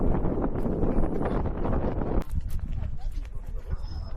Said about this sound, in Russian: на которой по утрам дует сильнейший ветер